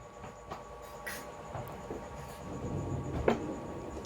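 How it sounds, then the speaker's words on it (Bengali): Fried dried red chilies pounded in a mortar and pestle give off scattered soft thuds and gritty taps at an uneven pace, fairly quiet, over a low room hum. "সেটা এখন এই হামাল দিস্তারে থেতো করে নিচ্ছি"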